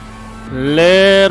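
A Class D race car in the iRacing sim revs up, its engine note climbing in pitch and swelling louder over about a second before a brief dip at the end.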